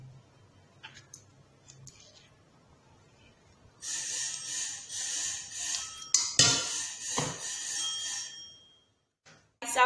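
A thick organic black soap scrub is stirred in a bowl, giving a few seconds of wet scraping and clinking against the bowl. The bursts are close and uneven, with brief pauses and taps near the end.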